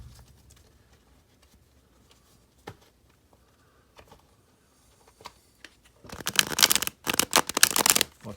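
Tarot cards riffle and slap in a loud close shuffle over the last couple of seconds, after scattered quiet handling taps and card draws.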